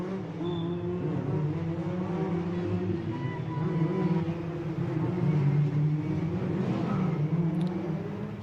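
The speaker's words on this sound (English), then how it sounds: "the cars now are coming up towards the grid" Caterham race cars rolling up to the grid at Portimao, a low steady engine drone from several cars at moderate distance, with a commentator talking over it.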